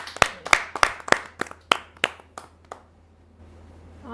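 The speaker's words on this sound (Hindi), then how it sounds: "आपकी जोरदार तालियां मिले" A small audience at a Hindi poetry recital greets a poet with scattered hand claps, about nine sharp, distinct claps in an uneven rhythm that thin out and stop, leaving quiet room tone.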